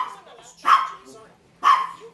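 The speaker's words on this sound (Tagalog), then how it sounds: "And yung aso namin ang ingay-ingay." Two loud, close dog barks spaced about a second apart, with quiet in between.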